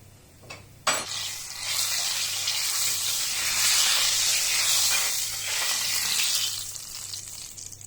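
A small clink, then a loud, steady sizzle as cumin seeds and chillies hit hot ghee for a tarka, hissing continuously at close range before easing slightly.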